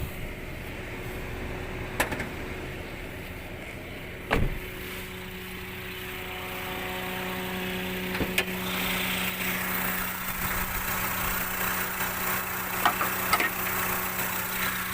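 A car engine idles with the hood open over the engine bay, a steady low hum with a few sharp clicks and knocks breaking in, growing slightly louder later on.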